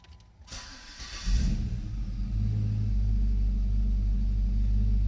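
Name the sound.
Jeep Liberty with swapped LS V8 engine starting up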